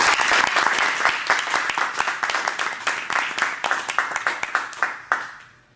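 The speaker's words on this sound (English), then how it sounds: "Let's welcome him with a round of applause" Audience gives a warm round of applause welcoming a speaker to the stage, many hands clapping in a dense, loud burst that thins into scattered claps and fades out near the end.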